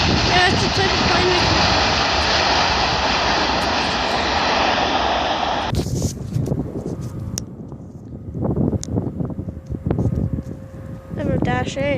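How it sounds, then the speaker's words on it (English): Dash 8 turboprop airliner passing at Vancouver airport, a loud roaring engine and propeller drone that cuts off abruptly, followed by wind and handling noise with people talking nearby. "Another Dash 8."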